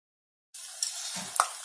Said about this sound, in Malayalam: ഇനി ഇതിലേക്ക് കുറേശ്ശെ മാവ് ഒഴിച്ച് വറുത്ത് കോരാം.